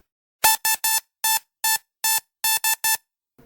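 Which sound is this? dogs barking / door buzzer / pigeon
door buzzer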